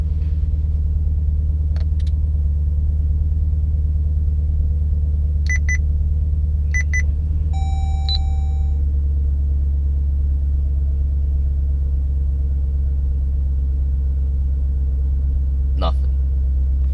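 A Jeep engine rumbles steadily at idle from inside the vehicle, with a few short electronic chime beeps partway through and a brief click near the end.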